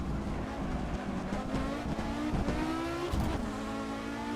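An Audi S1 E2 Quattro rally car in Assetto Corsa, its engine revving hard under throttle with a rising, gritty roar and brief shifts, close and loud throughout.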